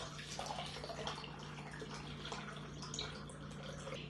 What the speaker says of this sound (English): you make this mixture and you're going to pour it into your container that you're going to store your eggs in